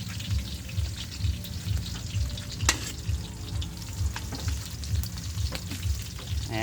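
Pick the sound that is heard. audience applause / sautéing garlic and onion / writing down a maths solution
sautéing garlic and onion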